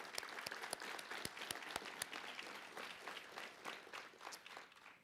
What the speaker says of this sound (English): just a round of applause to family and friends that are here